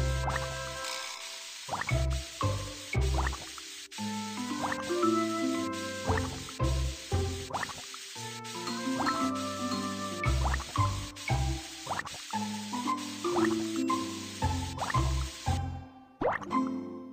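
Liquid toilet cleaner dripping and plopping in a cartoon house-cleaning scene, a steady run of wet drips and squishy plops with soft music-like tones throughout, no talk.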